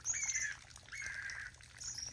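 A slate-colored seedeater (coleiro ardósia) calls in the wild, a run of fairly close, bright chirps and short squawking notes over faint background rustle, with no voices.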